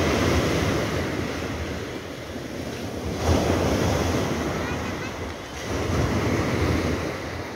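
Big ocean waves breaking on a beach, a continuous loud roar of surf that swells and recedes in broad surges, mixed with wind buffeting the microphone.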